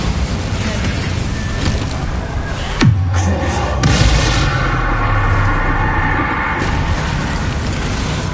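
A Bombarda explosion spell goes off in the Hogwarts Legacy video game, one sharp blast with a falling boom, set against a steady din of game combat noise.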